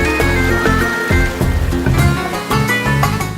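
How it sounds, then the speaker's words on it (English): Water pours through sluice gates in Isfahan in a loud, continuous rushing flow, heard alone with no voices. "The flow of water through the sluice gates is a fascinating sight."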